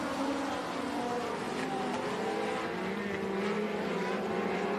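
Race cars roar around Fayetteville Motor Speedway, a dense, sustained engine drone with overlapping pitches from several cars battling through the turns, heard at a distance and fairly faint.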